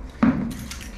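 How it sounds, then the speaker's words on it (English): A bunch of keys gives a single quick metallic jingle and clink, close by and brief, followed by faint rattling in a quiet room. "Keys."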